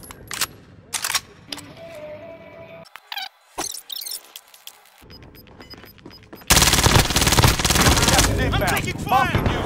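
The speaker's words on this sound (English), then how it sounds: "I'm taking fire!" Rapid automatic gunfire rattles through a Call of Duty: Modern Warfare match, with a loud, dense burst of shots dominating the final few seconds after quieter game sounds and scattered effects.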